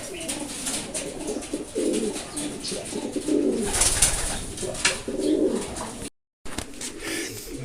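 Racing pigeons cooing at their loft, a steady chorus of low throaty coos and soft calls close by, continuing almost without break.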